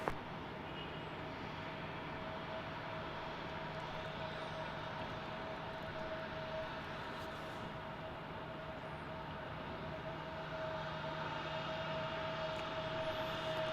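An airliner at Salt Lake City airport builds to a steady, sustained engine roar with a constant drone, heard from a distance throughout with no talk.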